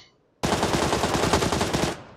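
Loud, rapid automatic gunfire in the PUBG battle-royale game, a dense rattling burst that starts abruptly after a quiet moment and runs steadily for about a second and a half before cutting off.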